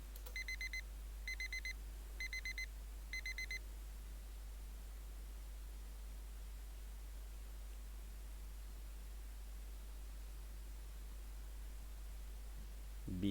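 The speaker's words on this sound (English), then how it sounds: "Beep beep beep." An alarm clock in a visual novel video game beeps in four short evenly spaced bursts at the start, then stops, leaving a long stretch of faint steady static.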